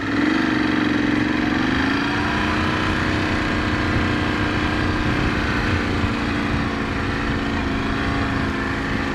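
2018 Ducati Scrambler 1100 motorcycle ridden at low speed, a close, loud, steady engine rumble with a slight pitch shift early on, alone throughout.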